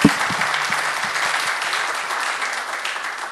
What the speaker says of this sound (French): On l'applaudit, tiens.